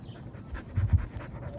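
A Border Collie pants quickly and softly up close after playing frisbee, short rhythmic breaths over a quiet background.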